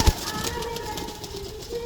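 Kalpeta pigeons, males and females kept in pairs, coo nearby in soft throaty calls over a faint background hum, opening with a sharp knock.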